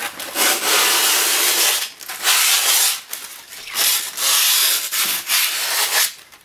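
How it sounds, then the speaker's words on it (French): Skateboard grip tape edge being sanded around the board, loud close rasping strokes in a rhythmic series of about six rubbing passes with brief gaps, no talk. "On vient le poser ici, avec le pouce sur le bord, et on ponce en faisant le tour"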